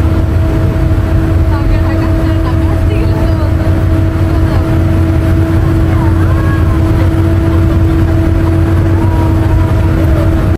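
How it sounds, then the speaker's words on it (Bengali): Inside a Hanif AC coach speeding at about 110 km/h on the Dhaka–Chittagong highway, the engine roars loud and unbroken, with a steady droning hum and road rumble filling the whole stretch. "মানে একটা এসি বাসের ভিতরে মনে হচ্ছে হেলিকপ্টার চলতেছে"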